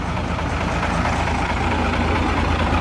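Truck diesel engine running steadily, a loud low rumbling idle with a constant throbbing drone, close and uninterrupted with no voices.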